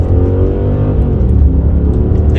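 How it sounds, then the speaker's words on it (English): Audi S6 with a V10 engine pulling hard under acceleration, with a touch of wheel spin; a loud, close, continuous engine roar with a steady low rumble throughout. "I think we had a little wheel spin there."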